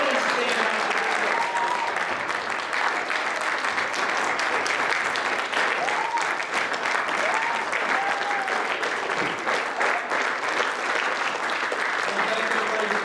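Audience at the NHTI Athletics Hall of Fame ceremony giving the inductees a steady, sustained round of applause, dense clapping that holds at an even level throughout with a few scattered voices.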